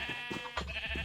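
A sheep in the video game Minecraft bleats several times in quick succession, short wavering calls close by and moderately quiet, with no talking.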